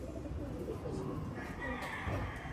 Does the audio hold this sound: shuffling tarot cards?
no